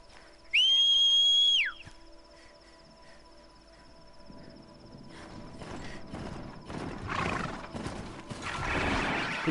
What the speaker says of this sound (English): Good horse.